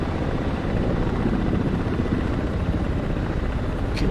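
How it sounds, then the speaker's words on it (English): Helicopter rotors in a flight simulator game make a steady, loud, continuous whirring drone with a low throbbing pulse that holds unchanged throughout, with no talk. "There must be like a secondary sound from the exhaust as opposed to from the rotors."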